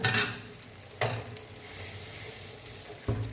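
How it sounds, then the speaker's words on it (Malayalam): Ragi dosa batter cooks on a hot pan with a steady close sizzle, punctuated by a few sharp scraping or tapping sounds from a utensil, no speech. "നമുക്ക് ദോശ ചുടാം"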